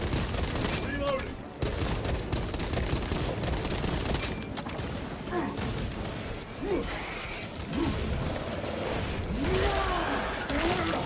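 Dense video-game gunfire and mechanical ratcheting clicks of a weapon being reloaded, fast and busy, mixed with battlefield noise and shouted voices.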